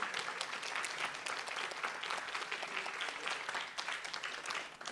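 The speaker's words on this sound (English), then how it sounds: "let's give a big round of applause for Rita." An audience applauds steadily at a science summer institute's final presentations, a dense, even clatter of many hands throughout with no voices.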